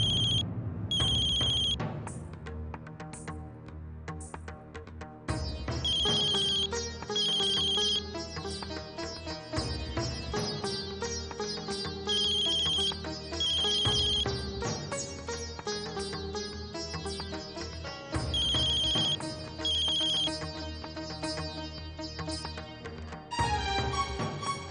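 A melodic phone ringtone plays on and on in a Hindi TV serial, with pairs of high electronic beeps recurring every few seconds over a busy musical backing.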